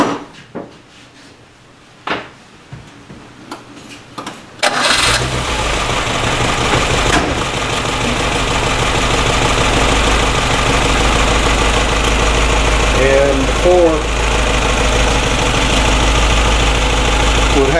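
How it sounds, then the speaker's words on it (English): A Subaru EA71 flat-four fitted with an electronic distributor and a Weber carburetor, already warm, cranks and catches after a few quiet clicks, then settles into a loud, steady idle that runs on alone. "So we're just going to fire it up here, and it's already up to warmed up temperature."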